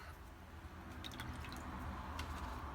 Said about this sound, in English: Rinse this brush out.